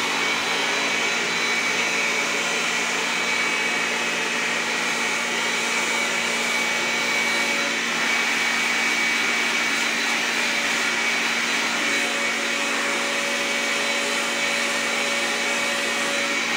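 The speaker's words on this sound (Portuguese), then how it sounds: "a parte que ela mais gosta, gente, é do secador, que fica quentinho o cabelo" A hair dryer blows warm air continuously on a child's hair after a haircut, a steady, airy whir, close and even, with no talking.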